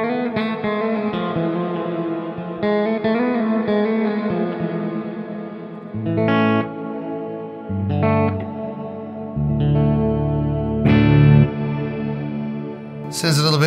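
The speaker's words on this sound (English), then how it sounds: "So the next reverb is the dynamic reverb." Electric guitar played through a BOSS RV-6 reverb pedal on its dynamic reverb setting, sustained chords and notes with a long, washy, echoing tail and some distorted swells, loud and close with no voice.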